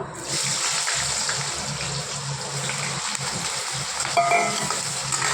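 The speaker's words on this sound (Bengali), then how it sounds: "তো এখানে আমি সবার প্রথমে আলুটাকে ভেজে নেব" Potatoes frying in hot oil in a home kitchen pan, a steady broadband sizzle close up and fairly constant, with a brief clink of a utensil toward the end.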